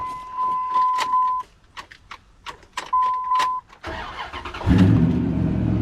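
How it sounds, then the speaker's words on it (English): A third-generation Ram 1500 Hemi pickup with over 420,000 miles gives a few interior chime beeps, then the engine cranks briefly and catches, settling into a loud, steady idle close by. "So let's start the truck real quick"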